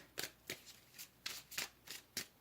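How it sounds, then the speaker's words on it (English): A deck of tarot cards is shuffled in soft, close, rhythmic riffles, about eight quick bursts spaced evenly with no talking. "let's pull some cards for group number"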